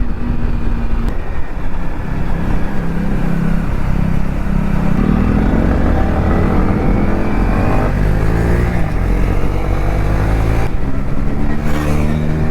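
Motorcycles on a group ride in strong wind hum and rev continuously, with engine pitch climbing and dropping as bikes accelerate nearby, all under a heavy rushing wind roar.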